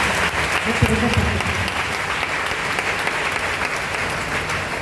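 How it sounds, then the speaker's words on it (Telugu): Loud, sustained clapping from a church congregation fills the whole stretch as one dense, even wash of applause, with no talk over it. "గట్టిగా చప్పట్లు కొడుతూ దేవాదేవుని చెల్లిస్తాను"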